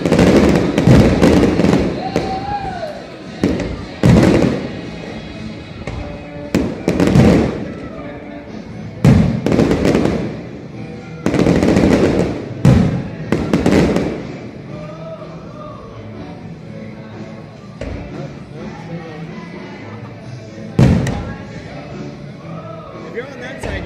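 A Pensacola Blue Wahoo fireworks display booms and crackles in irregular loud bursts, some clustered together, with people talking between and over the blasts.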